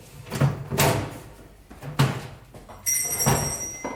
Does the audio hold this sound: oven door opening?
yes